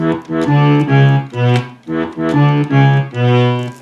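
A repeating accordion bass pattern starting on E, bouncy alternating reedy notes, played close and loud with a steady rhythm.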